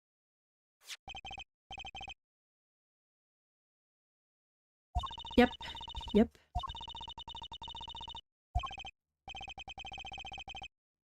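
A cell phone rings in the Apollo Justice: Ace Attorney video game as repeated bursts of an electronic ringtone, with game sound effects and a voice briefly cutting in between the rings.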